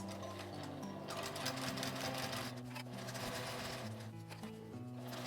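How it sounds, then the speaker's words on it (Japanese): A sewing machine stitches slowly through thick, stiff overlapping fabric on a small cosmetic bag, giving a steady, close mechanical whirr with a rhythmic hum throughout. "重なり部分は硬くなっているのでゆっくりとミシンを回します"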